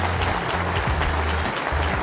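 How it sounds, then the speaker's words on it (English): Audience applause at a charity evening awards program for student scholars, a dense, loud wash of clapping hands with low hum beneath, continuous across the moment. "Let's give a round of applause for Gabe Solomon"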